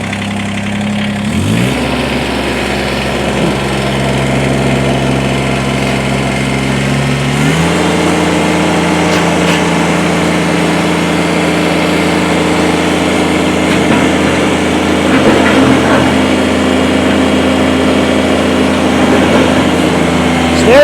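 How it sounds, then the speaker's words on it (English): A 2018 Kubota BX2380 23 hp sub-compact diesel tractor engine starts and idles steadily, then revs up to a higher, louder, continuous running drone. "We're going to fire this tractor up."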